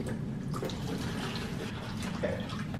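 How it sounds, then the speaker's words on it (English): Water poured into the base tank of a NewAir EC111W evaporative cooler fan makes a steady, close splashing trickle that runs on without a break. "so you add water to it"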